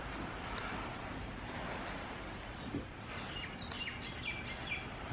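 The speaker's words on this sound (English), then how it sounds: "The birds are out, you can hear the waves." Ocean surf washes steadily along the shore of Tivua Island, Fiji, a soft continuous hiss, while small birds chirp faintly and intermittently in the background near the end.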